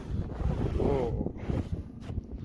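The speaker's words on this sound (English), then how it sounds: "The wind's starting to pick up again." Rough wind gusts buffet the microphone in a continuous low roar during an Iowa blizzard, fairly loud and steady.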